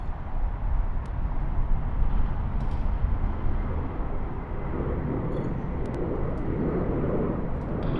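Velocity airliner taking off from runway 34R at Sydney Airport, a broad steady jet roar heard from a distance, constant and rumbling with no voices over it.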